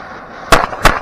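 Two sharp, loud bullet bomb firecrackers burst in quick succession during Diwali, each a close, explosive crack following a stretch of faint hiss.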